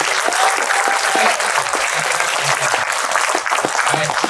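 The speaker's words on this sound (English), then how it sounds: "give yourselves a round of applause" An audience at a film screening Q&A in Oakland applauds, a sustained, close round of clapping from a crowd, dense and even throughout with a few scattered cheers mixed in.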